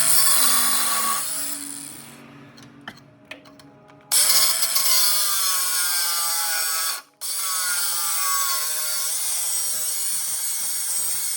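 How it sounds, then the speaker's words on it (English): Angle grinder cutting through a car bracket, a loud, close, high whine that runs steadily, drops off briefly, then bites back in and continues without a break. "I'm going to do some angle grinding. Cut a bit of this bracket off."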